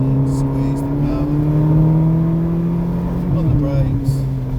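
Ferrari California V8 engine note pulling hard on the Castle Combe race circuit, a steady loud drone with rising harmonics and a brief dip near the end as the revs shift, an instructor talking over it throughout.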